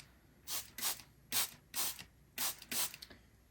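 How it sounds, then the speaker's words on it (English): A hand-pumped spray bottle mists water onto a Lexan RC car body, six short hissing bursts in uneven pairs, close and quiet with no talking. "So I got a spray bottle with some water."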